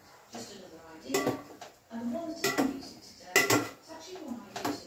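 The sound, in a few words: used cooking utensils being cleared away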